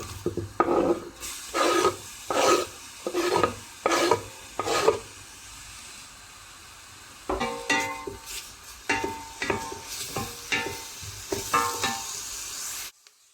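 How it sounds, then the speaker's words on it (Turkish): Chopped onions sizzle and crackle in hot oil in a Fissler pressure cooker, with rhythmic stirring scrapes in bursts, a quieter pause, then more stirring and frying close by. "soğanlarımız kavrulurken"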